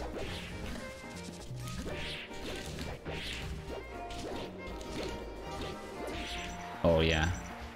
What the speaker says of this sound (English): Okay, I'm gonna do a lot of forward throw pivot forward smashes.